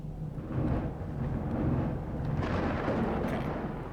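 Loud, sustained thunder rumbles continuously from a Cataclysm: Dark Days Ahead game, a deep broadband roar that swells in two big waves with no voices over it.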